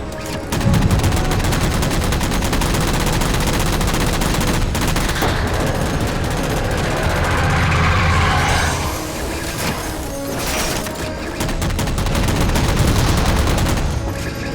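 Rapid gunfire in the video game Halo 4 as jammers are shot, loud dense bursts of automatic fire continuing almost without pause, with crashes and mechanical noise mixed in.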